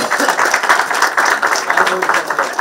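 Loud, dense applause from an audience at a televised stage event, with a sustained wash of clapping across the whole moment.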